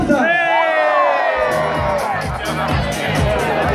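A party crowd at an outdoor terrace nightclub event in Rome cheers, whoops and shouts together in a loud, sustained roar that carries on without a break.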